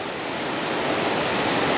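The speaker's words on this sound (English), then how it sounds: "There's a little waterfall" A small waterfall on a creek during a hike in Alaska, a steady, close rushing of water that fills the moment evenly with no voices.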